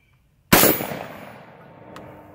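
One loud, close blast from a Panzer Arms BP-12 12-gauge shotgun fired at a silhouette target, ringing out in a long fading tail, with a faint metallic tap afterward.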